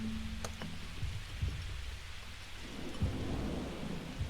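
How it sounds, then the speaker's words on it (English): Rain and thunder in the video game Godhood: a steady hiss of rainfall with faint low rumbles of thunder and a few soft thuds, quiet and continuous, no voices. "That's probably why it's raining."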